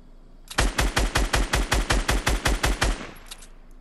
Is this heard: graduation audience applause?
no